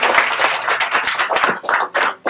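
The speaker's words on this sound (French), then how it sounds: "Amélie Piron, Media Activation Leader, à nous rejoindre sur scène sous vos applaudissements." An audience at a gaming afterwork event claps to welcome a speaker onto the stage, a loose scatter of individual hand claps at close range that thins out toward the end.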